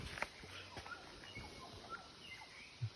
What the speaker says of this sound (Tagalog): Maririnig lang natin dito mga huni ng mga ibon